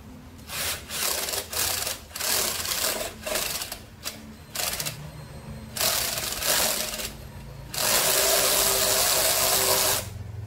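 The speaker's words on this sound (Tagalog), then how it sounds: "Screw natin itong inductor dito sa primary ng ating toroidal transformer." Screwing an inductor onto the primary of a toroidal transformer, a series of short, close-up rasping bursts of a screwdriver or small powered driver, separated by brief pauses, ending in a longer sustained whir.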